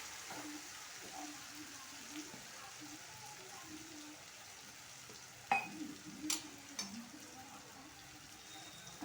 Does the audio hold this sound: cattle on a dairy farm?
no